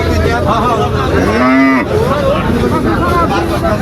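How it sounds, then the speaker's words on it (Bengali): A single loud, drawn-out cow moo rises and falls over the steady crowd babble and bustle of the Tepakhola cattle market in Faridpur, with people talking throughout. "আমরা হাটের মধ্যে গরু দেখতেছি"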